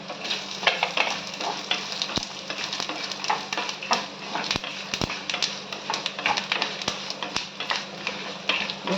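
White sesame seeds and cumin dry-roasting in a pan for garlic chutney, giving a steady crackling sizzle with scattered sharp pops and stirring scrapes throughout.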